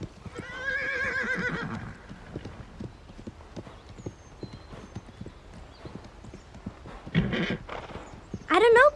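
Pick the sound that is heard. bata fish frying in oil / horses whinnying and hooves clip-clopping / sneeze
horses whinnying and hooves clip-clopping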